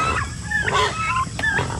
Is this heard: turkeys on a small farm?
yes